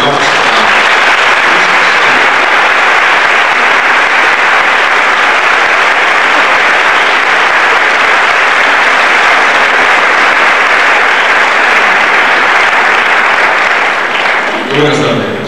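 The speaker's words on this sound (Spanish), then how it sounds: "Un aplauso muy fuerte, recibamos." A large theatre audience at the Festival del Pilar in Madrid, 1994, breaks into loud, dense, sustained applause that fills the room without pause for about fifteen seconds before starting to taper.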